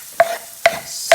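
Food frying in a pan with onions, stirred with three sharp, evenly spaced scrapes against the pan over a quiet background sizzle.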